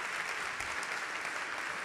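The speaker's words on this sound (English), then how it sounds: "So we'll give them a round of applause." Steady round of applause from the audience at a Culture Moves Europe launch event, a dense, even wash of clapping with no gaps, heard from a distance and held at a moderate level throughout.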